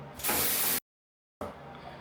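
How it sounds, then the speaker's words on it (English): A close, loud burst of hissing water spray from a hotel bathroom bidet sprayer lasts about half a second, cuts off abruptly, and a softer rushing hiss follows. "The bum gun pressure."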